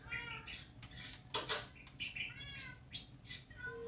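A cat meows repeatedly in short, rising cries, fairly close, with a few sharp bursts of noise between them, in the game Minecraft.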